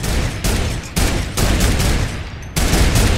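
Loud, sustained automatic gunfire in a looting shooter video game, firing in long bursts broken by brief pauses, close and harsh, with no voices over it.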